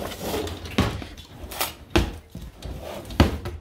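Kitchen drawers being pulled open and rummaged: several distinct wooden thumps and slides land at irregular intervals, close by, with faint rattling in between.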